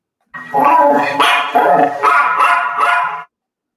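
A dog's barks and yips come through an ITC spirit box, loud and close, in a quick burst of several harmonic barks lasting about three seconds and then cutting to silence.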